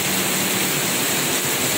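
Heavy afternoon rain pours down in a loud, dense, unbroken hiss, soaking outdoor pipelines, with no pauses across the stretch.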